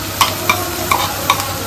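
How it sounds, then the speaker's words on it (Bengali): Finely chopped onion frying with garlic in mustard oil, a steady close sizzle broken by four regular scraping stirs. "পেঁয়াজ কেটে রেখেছি আমি চপারে, সেটা দিয়ে দিল।"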